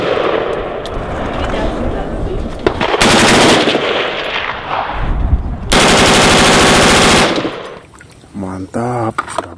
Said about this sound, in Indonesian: Wow, ini tembak-tembakan M16.